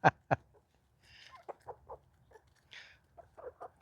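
Backyard chickens cluck close by in an autumn garden, with a couple of sharp notes at the start and then a string of short, soft clucks and squawks.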